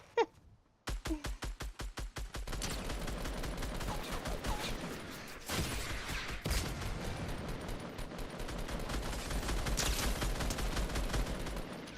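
Gunshots in Fortnite ring out as a fast regular burst of sharp cracks, followed by continuous dense firing and several louder shots, all fairly close and with no voices over them.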